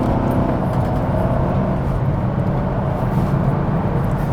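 Ford Crown Victoria Police Interceptor engine pulling away, a steady low rumbling drone close by with no voices, holding an even level throughout.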